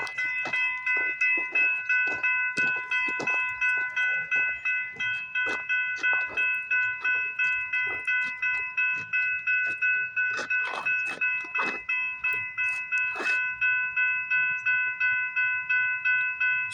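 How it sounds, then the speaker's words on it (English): A CPKC eastbound freight train rolls past a crossing, a steady tonal hum running throughout with repeated rhythmic clunks of wagons over rail joints, close and fairly loud, with no talk. "we got a CPKC eastbound train coming down the line"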